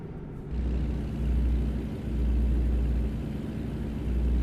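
Truck engine in American Truck Simulator, a steady low rumble while driving at night, with slight surges in loudness, continuous and fairly close, no talk.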